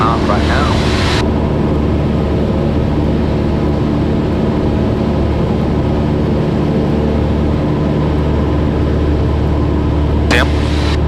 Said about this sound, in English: So there's a plane taking off right now.